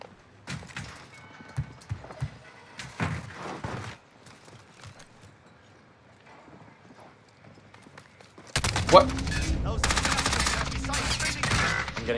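In a Warzone match, gunfire rattles out in scattered shots and then a loud, dense burst of sustained shooting, mixed with game sounds and no clear speech.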